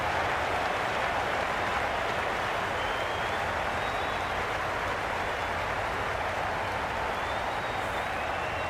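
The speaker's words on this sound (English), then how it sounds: "The crowd are really getting quite raucous." A dense, continuous roar of a big cricket crowd cheering in the video game Cricket 22, steady and unbroken, like a distant packed stadium with no single voices standing out.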